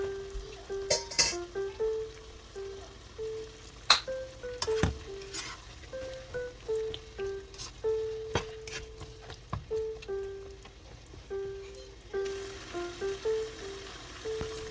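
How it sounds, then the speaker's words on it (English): Baby carrots are tossed into a frying beef stir fry with vegetables. Sharp spatula clacks and scrapes sound over a soft sizzle, with light melodic music playing underneath. "Now let's add our carrots. So right now I'm using baby carrots."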